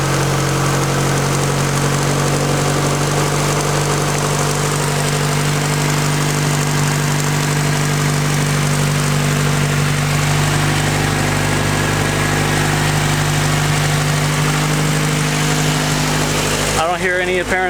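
A turbocharged Honda Del Sol engine idles steadily and close for a long stretch, a smooth even drone, with a voice briefly heard near the end.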